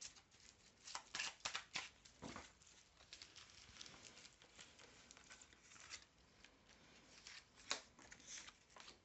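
Tarot cards are shuffled close by in a quiet room, with soft, irregular riffling and flicking patters and occasional sharper snaps.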